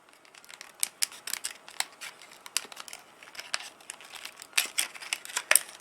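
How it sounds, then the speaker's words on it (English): Scissors snip and crinkle through packaging on a new computer part, a rapid irregular series of sharp cuts and plastic rustles, close and fairly quiet with no talking. "I just use scissors."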